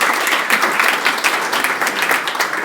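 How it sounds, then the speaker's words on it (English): An audience claps after a speech, a dense, steady wash of applause from many hands at close range, sustained throughout with no voices above it. "we'll clap everyone for that"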